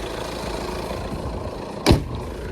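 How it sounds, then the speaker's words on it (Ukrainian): An Audi A4 diesel quattro engine idles smoothly and evenly in a steady low rumble, close up, with a brief louder knock or thump near the end and no talking. "Сам двигун працює рівненько, взагалі класно."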